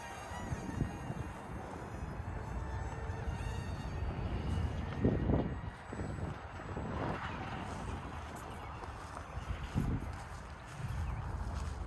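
A small Z51 Predator two-channel RC glider plane flying outdoors in wind, giving a thin, steady insect-like buzz of its little electric motor that rises and falls as it circles, mixed with wind noise.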